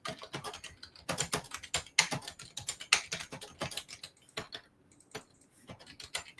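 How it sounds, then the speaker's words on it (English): Rapid keystrokes on a computer keyboard as a prompt is typed, a steady run of close, crisp clicks in uneven bursts with brief pauses, heard alone without talk. "all you do is you just type in a prompt"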